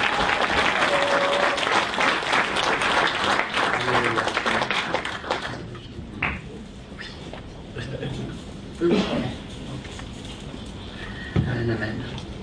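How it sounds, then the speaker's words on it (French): Congregation at a church service breaks into loud, sustained applause welcoming a woman preacher, dense clapping fading toward the end with scattered claps and some voices. "Nous accueillons la servante du Seigneur avec des grands applaudissements."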